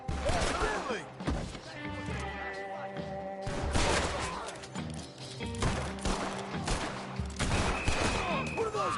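Western-style gunfire in Red Dead Redemption, several bursts of shots popping amid game music and ambience, with voices talking over parts of it.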